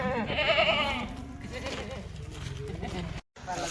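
Goats bleat at a livestock market, one loud, close, wavering bleat near the start and fainter calls after, under people talking throughout.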